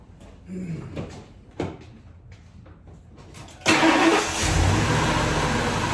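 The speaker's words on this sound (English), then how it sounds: "I'm going to start this truck up" A large V8 engine in a 1998 Ford Expedition cranks a few times, then catches and settles into a loud, steady idle close by.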